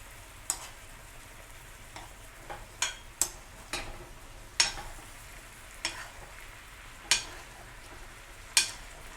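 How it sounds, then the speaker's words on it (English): Salmon basted with butter and thyme in a hot pan: a steady low sizzle broken by sharp, irregular spoon splashes and crackles, about a dozen over several seconds, close and with no voices. "you just want to make sure you baste the fish with the butter and thyme"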